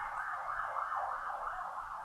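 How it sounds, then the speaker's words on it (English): Overlapping emergency sirens wail at once, a continuous wavering howl with several pitches weaving together, steady and fairly distant with no talk. "Sounds like 3 sirens at once."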